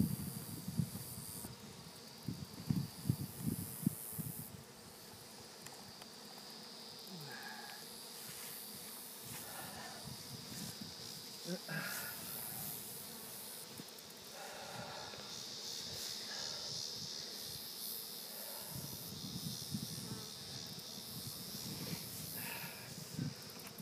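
A honeybee swarm being caught in a hive box in August, heard as a soft, wavering buzz of many bees with occasional louder passes near the microphone, mixed with handling rustles and bumps.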